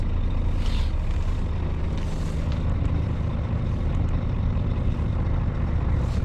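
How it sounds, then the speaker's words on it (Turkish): A truck handbrake is released and then pulled, bringing short air hisses and clunks above the constant loud rumble of the idling engine inside the cab. "Böyle bırakılır el freni. Böyle de çekilir."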